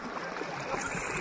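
Water of a river in a jungle area flowing steadily as a continuous broadband wash, close and fairly quiet, with no talk over it.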